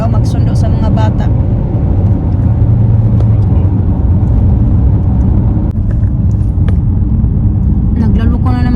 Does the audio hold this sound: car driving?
yes